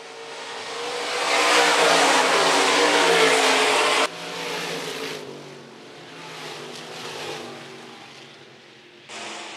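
Stock cars race nose to tail down the back straightaway of an oval dirt track at a county raceway, a loud roaring pack of engines swelling and fading as they pass, then cutting off sharply.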